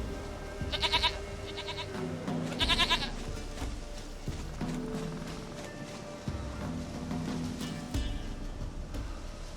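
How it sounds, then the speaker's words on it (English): A goat in the video game Witcher 3: Wild Hunt bleats in two loud, close bursts, set against cinematic background sound and low voices. "Goat of mine, dearest, sweetest goat."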